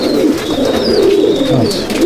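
Pigeons in a top-quality racing loft at Mominpur coo continuously, a loud, close, unbroken murmur of overlapping low calls with no voices.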